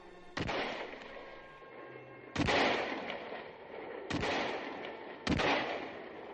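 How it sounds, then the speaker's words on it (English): Rifle gunfire used as a sound effect in a narrated adventure story, four loud, sharp shots spaced irregularly about a second or two apart, each leaving a long reverberating tail, with no speech. "I took out my rifle from its case. I began firing to slow the green warriors."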